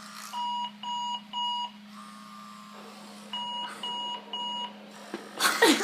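Super Sonic Boom alarm clock with a built-in bed shaker beeping in two bursts of three loud, evenly spaced tones, separated by a pause with a steady low hum beneath, followed by a brief rustle.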